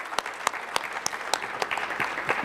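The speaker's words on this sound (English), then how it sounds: "બધા તાળી પાડો જોરથી" Audience applause for PMC's birthday, with dense steady clapping from a crowd and scattered sharper claps throughout, moderately loud.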